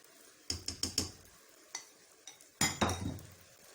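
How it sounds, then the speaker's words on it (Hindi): A spoon clinks and scrapes in a pan as banana halwa batter is stirred in hot ghee, producing a few sharp metallic knocks in two bursts over a soft low sizzle, near and otherwise quiet. "मुसलसल चम्मच चलाना है इसमें।"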